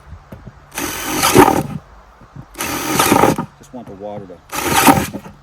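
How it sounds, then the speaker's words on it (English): A power drill bores holes through a bucket in three loud, broadband bursts of about a second each, spaced apart, with someone speaking briefly between them. "Start by drilling holes all through the bucket in a decent fashion, fairly spaced out."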